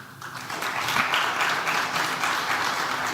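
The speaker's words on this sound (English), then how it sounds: "unfortunately you clapped" A university lecture hall audience at UC Berkeley breaks into steady, full applause, with many hands clapping evenly for about three seconds after a short moment of quieter room sound.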